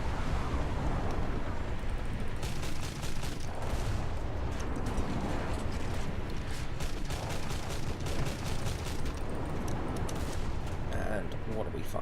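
Warship guns firing in War Thunder naval battle with a destroyer nearby, a rapid series of sharp cracking shots in steady bursts over a constant low engine and sea rumble.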